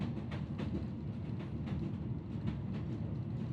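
European long-distance night train rolling along, a low steady rumble of the carriage with faint rhythmic clicks from the wheels, heard from inside.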